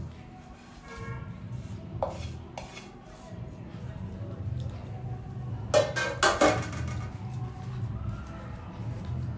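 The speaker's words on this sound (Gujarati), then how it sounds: "હવે આ જે મિશ્રણ છે એને આપણે થાળીમાં પાથરી લઈશું" Utensil scrapes and taps on a metal plate as a warm sukhdi mixture of wheat flour and jaggery is spread and pressed, with a cluster of sharp clinks partway through over a low background hum.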